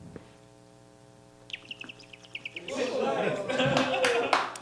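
A novelty water bottle gives off a quick series of small chirping bird tweets, followed by audience laughter and clapping swelling up in a live comedy club.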